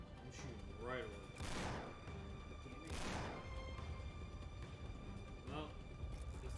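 Two or three heavy bursts of gunfire in Uncharted 3, with booming volleys and explosive crashes over a constant game soundscape, set back in the mix while voices talk over it.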